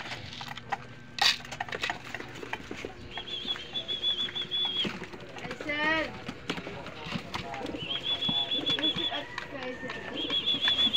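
Pigeons are fed up close, with a burst of wing flapping, soft cooing and pecking scuffles, while a person talks and high chirps come and go in the background.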